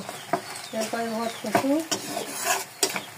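Chopped kochu (taro) leaf greens are dropped into hot oil in a pan, giving a sharp clatter of utensils and a crackling sizzle, with a few metallic knocks nearby.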